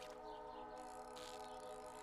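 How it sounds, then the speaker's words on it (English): A train in the Stardew Valley video game rolls past with a faint, steady mechanical drone and sustained whistle-like tones. "Figures it would happen right when a train is coming."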